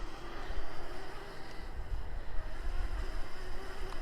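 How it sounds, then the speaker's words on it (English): Steady wind rushes and buffets outdoors, a continuous low roar with gusty swells and no voices. "it's slight windy out here"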